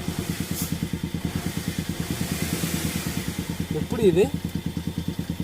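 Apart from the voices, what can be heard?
car engine starting after breakdown in forest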